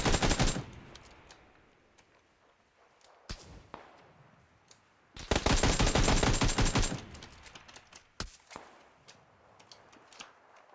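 Bursts of rapid automatic gunfire in PUBG, loud and close, arriving in two long volleys separated by quieter gaps with a few isolated single shots.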